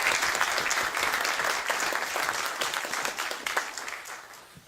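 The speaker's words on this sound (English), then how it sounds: "So how about a round of applause for all our volunteers?" A crowd at a city council candidates forum gives steady, dense applause for volunteers, a sustained wash of clapping that tapers slightly near the end.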